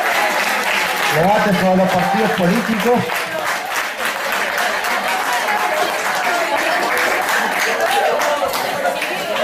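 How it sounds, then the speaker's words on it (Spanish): Audience applause fills a debate on political parties, steady dense clapping throughout with a speaking voice over it early on and scattered chatter beneath. "Démosle un aplauso fuerte, ¿no es cierto?"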